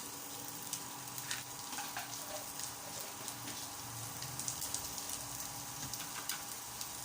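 Dried shrimp and shallots stir-fry in a pan for Pad Thai, giving a soft, steady sizzle broken by light scraping clicks from the spatula, with no talking.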